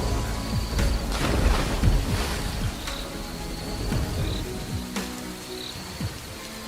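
Steady rain falls at night with dense patter on surfaces and occasional soft drips, a low rumble of storm underneath, moderately loud and continuous.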